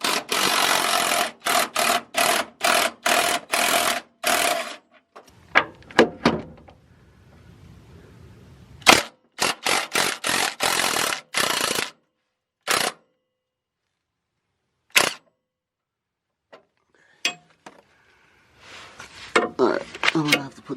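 An impact tool zips bolts off a car's fuel tank in several loud, rapid buzzing bursts, some long and some short, with gaps and scattered clanks between them.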